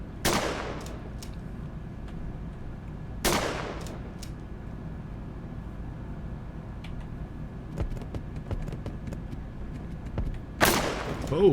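Several loud gunshots from the horror video game Horror Tales: The Wine, sharp single blasts spaced a few seconds apart over a steady low ambient rumble.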